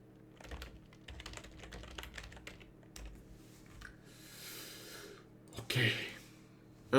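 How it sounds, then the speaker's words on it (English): Bursts of computer keyboard typing, quick clustered clicks that pause and resume, with soft breathing and a brief louder breath near the end, recorded close during a game stream. "Sorry for the typing, I need to write down something here."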